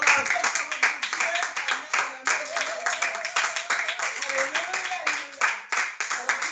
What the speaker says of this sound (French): Applaudissons pour la fête de Dieu.